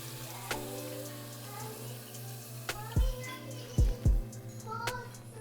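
Clam juice and vegetable broth are poured into a cooking pot, giving a soft liquid splash with a few louder glugs near the end, while a voice and faint speech are heard in the background.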